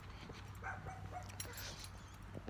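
Dogs bark and yelp near a bike path, the calls a little distant and scattered over a steady outdoor background hum.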